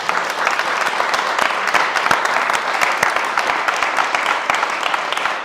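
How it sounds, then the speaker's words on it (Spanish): An audience bursts into sustained applause, a loud dense patter of many hands with sharp individual claps standing out, continuous and even for several seconds. "Un aplauso."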